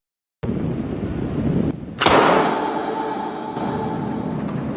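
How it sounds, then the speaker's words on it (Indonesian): A sharp, loud bang hits with a bright crack and long ringing tail, following a sudden onset of steady tense background noise. A gunshot in a film scene. "tiba-tiba suara tembakan terdengar"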